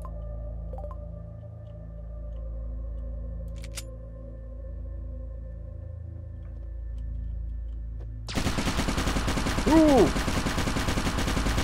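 In the Fallout Equestria video game, a turret opens fire after a quiet stretch, a sudden dense rattle of rapid automatic shots lasting several seconds, with a short exclamation from a voice over it.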